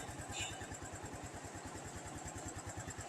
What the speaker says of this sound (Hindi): तो इंजन एग्जॉस्ट का साउंड सुनाते हैं।